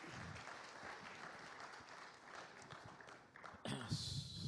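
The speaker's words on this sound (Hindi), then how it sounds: "जोरदार तालियां हो जाए मनोहर लाल जी की।" Studio audience applause for Haryana Chief Minister Manohar Lal at a televised Indian news forum, steady clapping throughout that ends in a louder burst with some crowd noise near the close.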